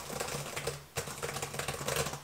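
Fingers type on the keyboard of a Microsoft Surface Book 2, giving a quick, uneven run of close, crisp key clicks and taps over a few seconds, with no talking.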